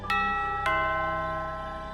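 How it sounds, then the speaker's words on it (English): Two bright chime strikes of a doorbell ring out in quick succession indoors, each tone sustaining and slowly fading, with quiet background music underneath. "The doorbell rang."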